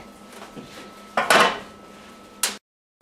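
Whole wheat bread loaves knocked out of metal baking tins, with a few clanking metallic bangs and scrapes, two louder ones standing out, close by and without talk.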